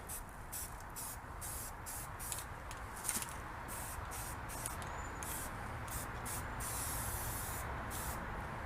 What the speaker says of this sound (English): I like this one because it sprays black and dries black.